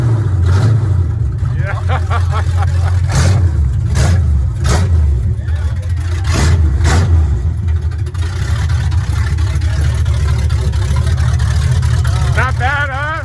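A truck engine fitted with new exhaust headers rumbles loudly at close range, with a deep throaty drone and a few rising revs, while people talk over it.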